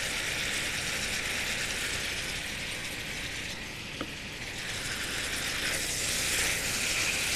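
Vegetables sizzle and sauté in a pan with rosemary and oregano, a steady bright frying hiss with a faint clink of a utensil partway through.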